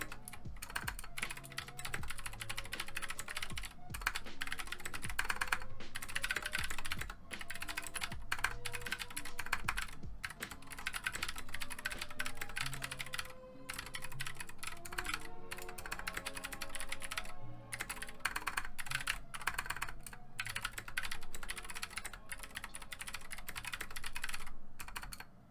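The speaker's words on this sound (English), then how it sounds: "we're gonna go into a typing test right now." Fast, continuous clatter of clicky blue switches on an Anne Pro 2 mechanical keyboard during a typing test, dense keystrokes with brief pauses between bursts, close and steady with no voice.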